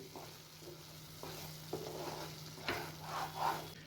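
A spoon scrapes and stirs through a thick paneer gravy in a pan, with soft sizzling and several distinct clinks, quiet and close.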